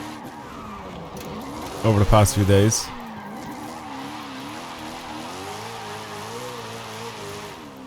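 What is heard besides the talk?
car drifting, tires skidding in video game Forza Horizon 5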